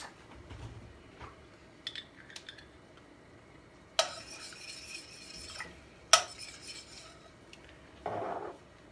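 Tamarind paste scraped off a spoon into a pot of squash soup: a few light scrapes and clinks of metal on the pot rim, two of them louder and sharper, alone in a quiet kitchen.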